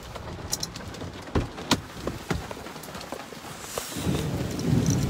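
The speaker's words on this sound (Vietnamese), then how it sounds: "Đấy, mưa rồi, bãi ma này." Steady rain falls over a graveyard, hissing on surfaces with crackling drops, while thunder cracks and rumbles several times nearby before the downpour thickens toward the end.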